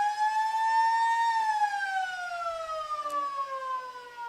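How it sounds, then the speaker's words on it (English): A loud, sustained end-of-quarter siren sounds at an Australian football grand final at a community ground in Fremantle. The tone holds, then slowly slides lower, heard alone with almost no crowd noise. "Coach Killer right on the siren."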